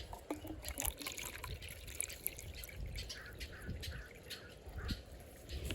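Fresh water is poured into a dish at a backyard bird feeder station, a faint, steady trickle with light splashing and dripping, heard alone without any talking.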